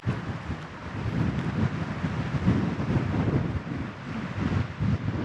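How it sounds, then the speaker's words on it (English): Wind gusts on a cold, wet night below the mountains, a continuous rough buffeting roar that swells and eases, with low rumbling against the microphone and no voices. "But today it's colder, wetter and windier."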